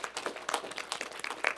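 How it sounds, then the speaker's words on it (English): Scattered clapping from a small audience, a quick uneven patter of claps at moderate volume, with no voices. "Big round of applause to you"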